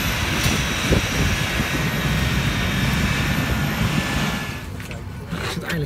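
Inside an airplane cabin at Eindhoven Airport, a loud, steady aircraft engine roar fills the space, easing slightly near the end.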